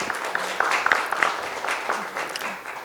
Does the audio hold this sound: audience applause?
yes